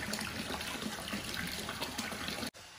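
Hot spring water splashes and flows steadily around a bather soaking in an onsen pool, a continuous close washing and pouring sound that cuts off abruptly near the end.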